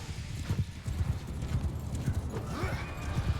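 A horse gallops in the medieval battle game Bannerlord, its hooves sounding a steady, close clip-clop rhythm with a brief whinny partway through.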